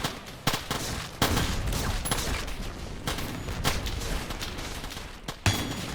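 Sector Wars gameplay packed with dense, continuous rapid gunfire, sharp shots stacking into near-constant fusillades at loud volume.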